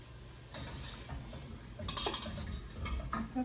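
Peppers and onion sautéing in a pan at close range, with a steady low sizzle under repeated scraping and clinking of a utensil stirring against the pan, in bursts of a few seconds.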